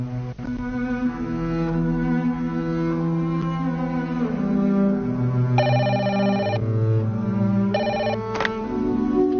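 A telephone bell rings in a Uyghur film scene, two bursts of repeated metallic trilling set over a steady background of music that runs throughout.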